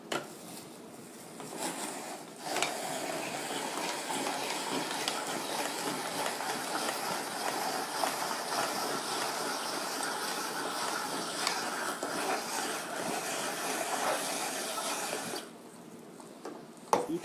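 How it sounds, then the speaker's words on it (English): Continuous grinding and squeaking of a manual hand-crank auger juicer crushing fruit pieces, fairly loud and steady for most of the stretch, starting and stopping abruptly, no voices. "You can see as I'm juicing,"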